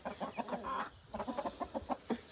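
Chickens clucking close by, a rapid series of short, throaty clucks with a brief pause in the middle.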